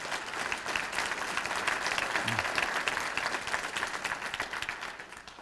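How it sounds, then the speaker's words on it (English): Audience applause at a college's annual state-of-the-college address, dense steady clapping from a large room that swells slightly and then eases off near the end. "give him and his staff a round of applause"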